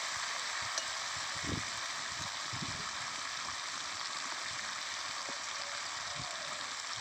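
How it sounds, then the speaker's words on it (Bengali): Ginger sautés in a pan for a sweet, sour and spicy raw mango pickle, making a soft, steady sizzle with occasional faint scraping stirs, quiet and continuous with no voices. "আদা দিয়ে ভালো করে কষিয়ে নিয়েছি"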